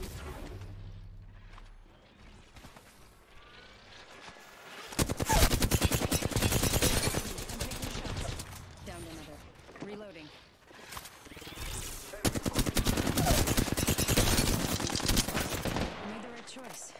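Gunfire in the video game Apex Legends, two long stretches of loud, sustained automatic fire, near and dense, with players talking over and between the bursts.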